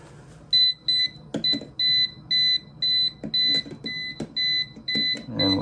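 A handheld voltage tester held to a live household outlet beeps in a fast run of about a dozen sharp, evenly spaced high tones, close and clear over faint handling noises.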